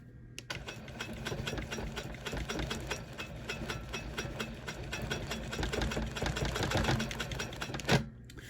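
Longarm quilting machine stitching along the edge of an applique, a rapid even mechanical chatter of the needle running continuously at close range, ending with a single louder knock.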